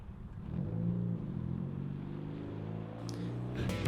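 A Ford Fiesta MK6 with a quick-shifter gear mod pulls away, its engine droning and building steadily at moderate distance, with a faint clatter near the end and no speech.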